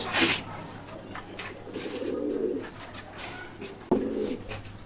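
Pigeons in a home loft coo softly, with two low, throaty rolling calls close by and a faint steady hum in the background.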